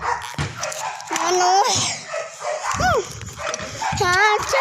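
Up close, a dog whines and yelps in short pleading cries, some arching up in pitch, while someone briefly speaks in the background.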